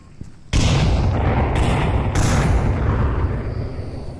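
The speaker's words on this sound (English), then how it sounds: "Multiple grenades, none hitting their mark" Grenade explosions in the VR shooter Onward during a competitive match: a sudden heavy boom, then two more blasts in quick succession, each leaving a loud rumbling roar that slowly fades.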